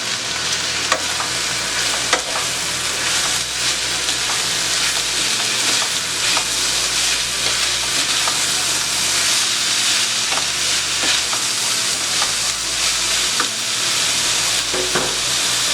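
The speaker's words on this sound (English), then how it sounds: "I'm going to add my tomatoes, diced up, 2 tomatoes, and then mix that in." Diced tomatoes, two of them, being stirred into a drained hot pan for lasagna, with a steady loud sizzle and frying crackle and intermittent scraping of a spoon throughout, no voices.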